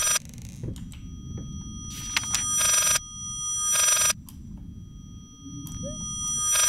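A shrill phone ringtone sounds in Layers of Fear, with several loud, evenly spaced bursts over a low, rumbling ambient background.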